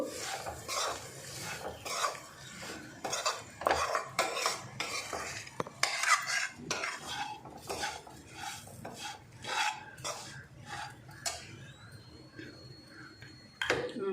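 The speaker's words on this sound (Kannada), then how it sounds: "ಇದೆಲ್ಲ ಚೆನ್ನಾಗಿ ಮಿಕ್ಸ್ ಮಾಡ್ಕೋಬೇಕು" A spoon scrapes and stirs ingredients in a pan for palya made with cluster beans, a close run of rhythmic rasping strokes and metal clinks with faint sizzling beneath and brief talk.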